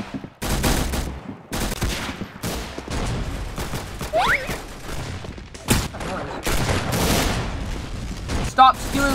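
Automatic weapon gunfire in the online shooter game Arsenal, loud rapid bursts and volleys that come in repeated clusters, with some talk mixed in between the shots.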